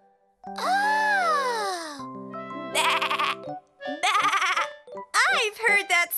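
A cartoon voice imitates a sheep bleating in a children's animal program: drawn-out, wavering baa calls repeat several times, loud and close, over musical tones.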